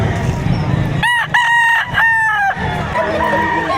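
Gamefowl at a weekend market for roosters behind a shopping mall in Lipa, Batangas: one rooster crows loud and close in two or three harmonic bursts over steady crowd murmur and background noise.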